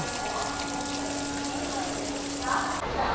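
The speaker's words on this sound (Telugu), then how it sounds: "ఇక్కడ వాటర్ ఫిల్లింగ్ జరుగుతుంది" Water gushes steadily into Indian Railways train coaches during filling at Vijayawada station, a continuous rushing hiss with a faint pump hum beneath the station ambience.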